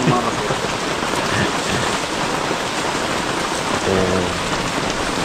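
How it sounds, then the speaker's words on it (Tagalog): Steady, dense rain pours down close by, with low rumbles of thunder rolling underneath around the middle and end of the downpour. "Pero yung kulog dito, lakas ng tunog. Parang nasa uluhan lang namin."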